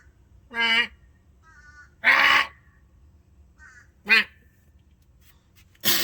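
A bird gives four loud, harsh, nasal calls spaced a second or two apart, close by, with brief softer chirps between and a quiet background.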